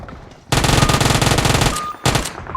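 Automatic gunfire in PUBG Mobile on the Erangel map, a loud rapid burst of shots lasting well over a second, a brief gap, then another short burst, with no talk over it.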